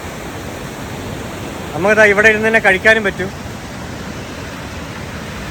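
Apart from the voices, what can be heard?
river water rushing with strong force after rain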